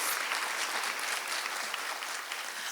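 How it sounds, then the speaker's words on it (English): A crowd at a teacher of the year ceremony claps steadily and evenly throughout, a dense, sustained round of applause with no voices standing out. "Let's give them all a round of applause."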